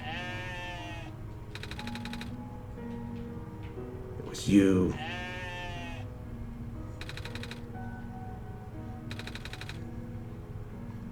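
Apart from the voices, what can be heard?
sheep bleating in a video game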